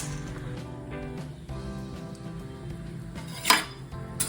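Roasted green gram tipped from a pan onto a metal plate in a home kitchen, soft scraping and clinking of metal with a sharp clatter near the end, no talk.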